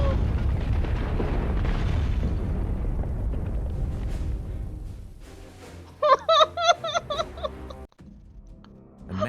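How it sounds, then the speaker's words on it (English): In the video game Beholder, a massive explosion destroys an apartment block: a long, loud rumbling blast fades out, followed by a run of short tonal game sound effects. "A massive explosion destroyed the whole apartment block."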